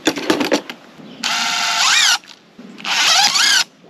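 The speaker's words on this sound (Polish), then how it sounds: "Wkrętarka." Cordless drill-driver driving screws into garden furniture, two loud whirring bursts of about a second each with rising pitch as the screw seats, preceded by knocks and handling clatter.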